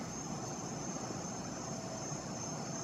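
Airplanes flying overhead produce a faint, steady, distant engine drone with a broad continuous hiss and no clear rise or fall.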